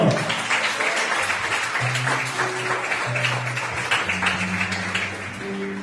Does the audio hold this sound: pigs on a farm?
no